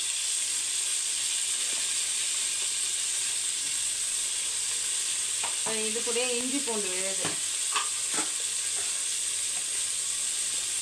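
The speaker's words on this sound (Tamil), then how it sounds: "வெங்காயம் ஒரு எயிட்டி பர்சன்ட் வதங்கினோன்னே தக்காளி மீடியம் சைஸ் தக்காளி வந்து ஒரு மூணு தக்காளி சேர்த்துக்கலாம்" Onions and tomatoes sizzle steadily in a hot pan, a close continuous frying hiss with a few scraping stirs partway through and a short stretch of someone talking over it.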